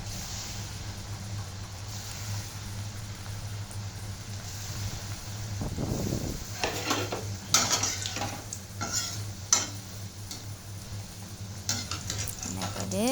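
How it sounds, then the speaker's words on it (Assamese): Rice flour pitha sizzling as the pieces go one by one into hot oil in a wok, a low steady fry that turns busier with sharp crackles and stirring, heard close with little talk. "কেৰাহীত তেল গৰম হ'ল। এতিয়া মই পিঠাখিনি এটা এটা দি দিলোঁ।"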